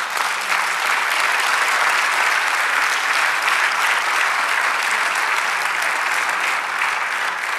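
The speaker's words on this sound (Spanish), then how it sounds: "Dale un aplauso al Señor." A church congregation gives sustained, loud applause during a Spanish-language sermon, a thick wash of many hands clapping steadily from start to end, with no speaking voice over it.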